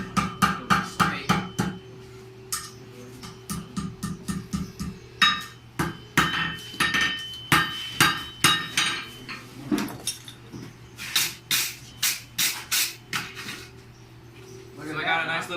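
A blacksmith hammers hot tapered metal into a bend on the anvil horn, ringing metallic blows in quick rhythmic runs with short pauses between them, loud and close under a low hum.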